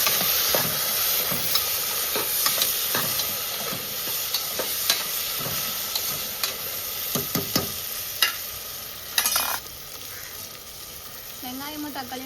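Onions and tomatoes fry in a pan with a constant hissing sizzle. Repeated scraping and clinking stir strokes sound close by throughout.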